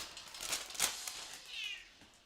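A house cat meows excitedly near a fast-food breakfast sandwich: a couple of short, fairly close meows in the first second, followed by a softer, higher drawn-out cry, with no talking.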